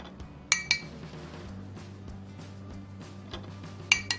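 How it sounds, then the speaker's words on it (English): Metal spoon scraping the top foam layer off homemade oven-method ghee, with sharp clinks against the container at the start and end and faint scraping between, close and quiet. "this is where we use our spoon just to gently scrape this top layer off the top"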